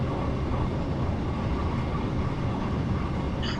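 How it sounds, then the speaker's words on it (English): Steady rumbling run of a Desiro electric train between Portsmouth and Waterloo, heard from inside the driver's cab, a constant broadband drone with no talk. "these trains were designed to do Weymouth services and Bournemouth services"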